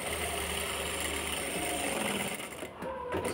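A sewing machine runs steadily while a blouse is stitched, its even mechanical whir going without a break for nearly the whole stretch before a brief pause and a few small knocks at the end.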